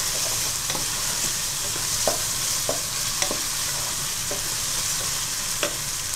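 Vegetables for pulao fry in a pan with green chilies while a spoon stirs them. A constant loud sizzle runs throughout, broken by occasional sharp taps and scrapes of the spoon against the pan.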